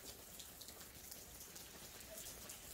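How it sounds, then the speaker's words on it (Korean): Sprinkler water falls steadily from a greenhouse ceiling onto shiitake mushroom beds, a dense, continuous patter of drops like rain on a surface, close and even throughout with no voices. "물이 잘 떨어지고 있습니다."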